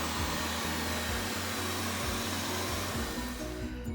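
A Xiaomi robot vacuum powers up indoors, giving a steady, loud whirring motor hum with a low rhythmic pulsing underneath that holds for several seconds before easing slightly at the end.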